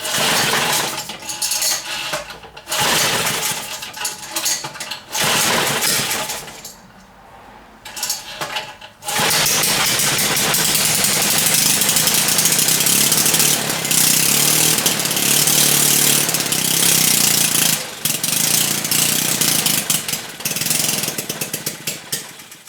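Homemade board track racer engine running from about nine seconds on, a loud, steady mechanical clatter and drone after earlier broken bursts of metallic rattling and short revs.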